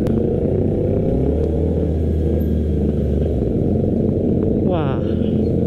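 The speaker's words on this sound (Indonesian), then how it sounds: "Emang sih suara knalpot tuh bikin anak-anak senyum ya." A Honda CB650R motorcycle's exhaust gives a loud, constant low rumble with clattering texture from up close during a ride, ending with a brief higher whine.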